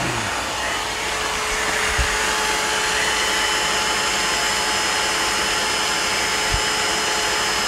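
Vacuum extractor running to clear grinding dust while precision ground flatstones are made, a loud, steady whooshing roar throughout with a couple of faint low thumps and no talking.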